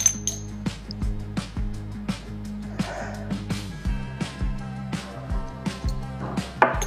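Small glass beakers and test tubes from a chemistry set clink together in a quick series of light, close taps with soft knocks between them, and no voices over the sound.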